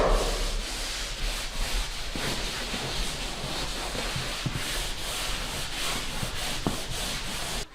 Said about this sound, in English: I'm going to go over all of the joint compound with a wet rag